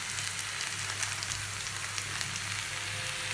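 Panch phoron spices crackle in hot oil for a home-cooked iftar meal; a soft, even sizzle with fine spattering holds steady throughout, fairly quiet and with no one talking.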